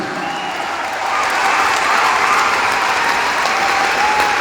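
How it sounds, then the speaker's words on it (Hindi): Steady applause from a crowd, dense and sustained throughout, swelling slightly after the first second. "जोरदार तालियां होनी चाहिए"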